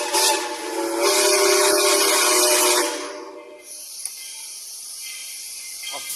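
A train on the tracks sounds a loud, sustained whistle blast for about three seconds, then a quieter rumble and hiss of the slowly moving train continues alone.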